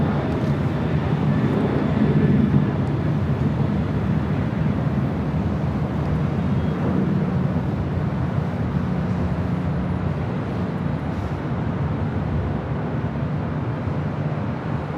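A Delta Airlines Airbus A319 jet airliner at LAX gives off a steady, broad roar of engine noise that holds evenly throughout at a moderate distance.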